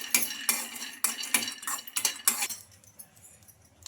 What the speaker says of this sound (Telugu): ఈ పల్లీలను బాగా ఫ్రై చేసుకుందాం